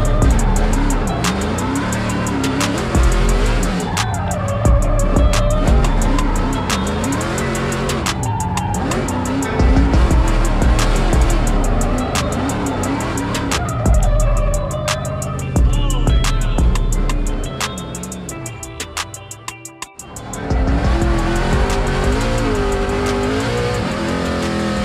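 A Ford Mustang RTR race car drives hard, its engine revving and shifting loudly with repeated tire squeal and skidding, continuous and close for the whole stretch before a brief dip near the end.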